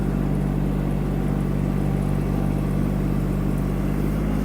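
Kubota KL-250 mini tractor engine running at high speed through its upper gears, a loud, steady drone with a constant low rumble and no talk.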